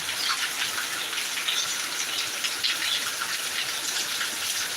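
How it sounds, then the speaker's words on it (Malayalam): Heavy rain pours down in Thiruvananthapuram, a constant dense hiss of falling water that stays loud and even throughout with no voices. "നല്ല അടിപൊളി മഴ പെയ്യുന്നുണ്ട് ഇവിടെ"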